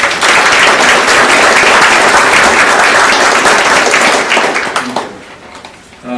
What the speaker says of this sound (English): let's have a round of applause for the police and fire